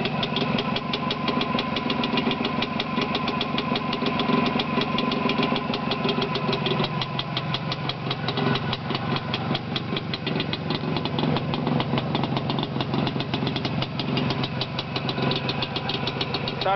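Close, continuous idle of a motorcycle engine fitted with new exhausts, a steady knocking rumble that holds even for the full length with no one speaking.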